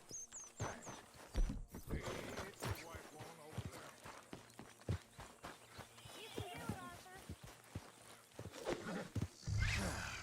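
In Red Dead Redemption 2, a horse whinnies and snorts amid clopping hooves and shuffling movement, with game sounds and a short rush of noise near the end.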